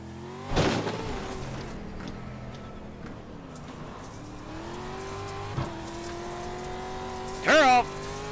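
NASCAR trucks racing at Pocono Raceway, engines droning steadily with sharp revving bursts and passes, a loud surge near the end, under a commentator's voice.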